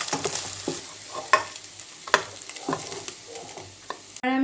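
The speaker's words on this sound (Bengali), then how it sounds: "আমি কড়ার একটু তেল দিয়ে চিকেনগুলোকে ছেড়ে দিচ্ছি" Chicken pieces frying in oil in a kadai for egg chicken tadka, a soft sizzle under repeated stirring scrapes and two sharp metallic clanks, close by, ending in a brief loud burst.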